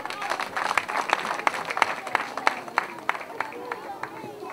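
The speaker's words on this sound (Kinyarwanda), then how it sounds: "Mubampera amashyi." An audience at a La Charité graduation ceremony claps in steady, rhythmic beats, close and lively, with a murmur of crowd voices underneath throughout.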